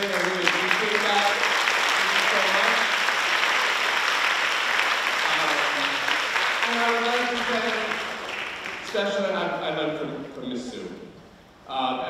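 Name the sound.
applause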